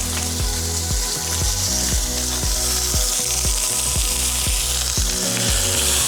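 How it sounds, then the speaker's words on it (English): Onions and capsicum frying in olive oil in a pan at a campground, a loud, dense, continuous sizzle with a faint regular ticking rhythm underneath, close up and steady throughout. "So I just got the onions and the capsicum in now. Just gonna caramelize these. Just got them in a bit of olive oil."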